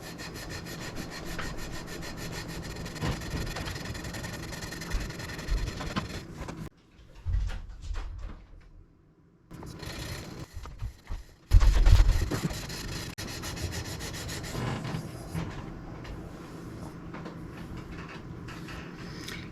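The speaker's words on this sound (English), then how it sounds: "we're going to use that as our high spot and sand that direction to put a little fall" Guitar frets being sanded to add fall-off on a Firefly FFDC/FFTC guitar, heard as steady rhythmic scraping strokes up close, pausing for a few seconds midway before continuing.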